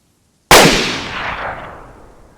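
A single loud, sudden rifle shot in the DayZ video game cracks sharply and then rolls away in a long fading echo.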